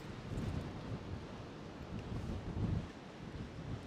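Wind blowing hard across the microphone on the coast at Charlestown, Cornwall, a steady low roaring buffet that swells and eases, alone without talk.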